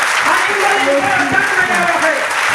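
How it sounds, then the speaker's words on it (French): Applause and cheering from a crowd at a Friday church worship service in Foundiougne, steady and dense throughout, with voices mixed in among the clapping. "sous vos acclamations, s'il vous plaît."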